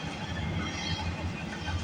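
CN freight train passing Bronte Street in Milton on a rainy day, a steady low rumble and rolling rail noise heard fairly softly and continuously for a brief moment, with no talking.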